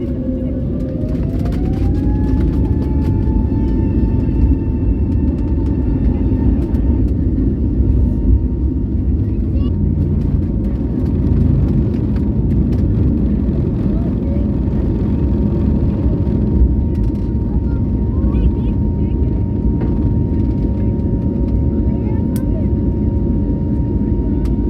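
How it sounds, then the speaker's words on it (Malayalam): A passenger jet taking off from Delhi airport, heard from inside the cabin as a loud, constant engine roar. An engine whine climbs in pitch early on, then holds steady for the rest of the roll and climb. "ഞങ്ങളുടെ ഫ്ലൈറ്റ് ഡൽഹി എയർപോർട്ടിൽ നിന്ന് ടേക്ക് ഓഫ് ചെയ്തിരിക്കുകയാണ്"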